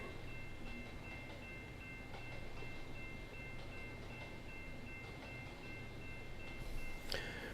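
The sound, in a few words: train locomotive (DPU) in video game Trainz 22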